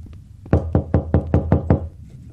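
Six loud, evenly spaced knocks thud on a door in the video game Rec Room, close and solid, followed by quiet.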